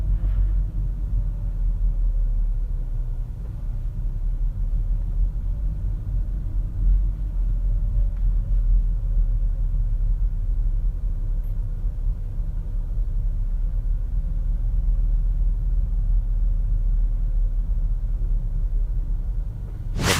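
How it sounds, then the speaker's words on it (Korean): A car rolls downhill in manual mode in first gear, braking on its engine, with a low steady rumble and a faint held engine tone that drifts slightly and stays even for about twenty seconds. "제가 수동 모드로 1단에 놓고 한번 내려가 보도록 할게요"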